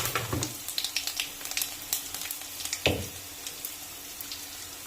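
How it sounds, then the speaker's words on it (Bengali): Bay leaves, cumin seeds and nigella seeds sizzle in hot oil for a gram dal curry, with a steady crackle of small pops and one louder spatter partway through. "তেলটা গরম হয়ে গেছে। আমি দুটো তেজপাতা আর সামান্য একটু জিরা দিয়ে দিচ্ছি, আর একটু কালো জিরা দিয়ে দিচ্ছি।"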